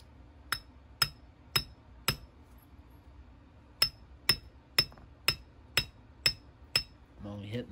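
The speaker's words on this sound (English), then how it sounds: "I'm only hitting the pin with the brass hammer" A brass hammer taps a pin during disassembly of a CZ P-07 pistol: about eleven sharp metallic clinks in a steady rhythm, close and clear, with a short pause midway and faint handling noise at the end.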